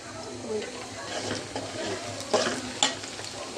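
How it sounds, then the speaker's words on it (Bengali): Small shrimp frying in hot oil in a pan, a continuous crackling sizzle with scraping stirs and a few sharper pops near the end. "ইয়ালি যে ইচা মাছগুলো একটু তেলের মধ্যে ভালো করে একটু বাইজা নিই"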